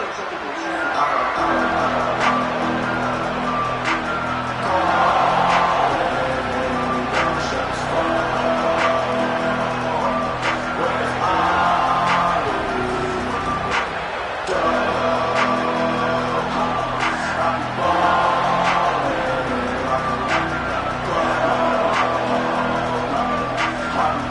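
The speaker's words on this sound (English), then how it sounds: "This crowd ready to make its presence known." College football stadium crowd at an Indiana Hoosiers game, a steady loud roar of many voices filling the whole stretch, swelling slightly at moments, with a play-by-play announcer talking over it.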